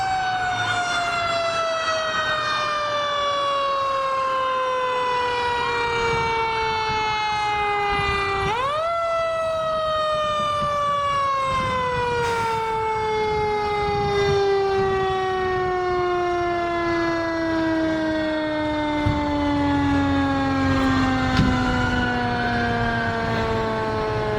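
Fire engine siren wailing at a mock crash scene, a loud, sustained wail that sweeps down in pitch, jumps back up, and then falls slowly again over many seconds, with a low truck rumble underneath.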